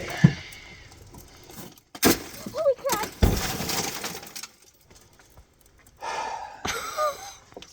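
Glass shatters on a dusty road trip: two sharp, bright crashes about a second apart, with short exclaimed remarks from a person and scattered knocks around them.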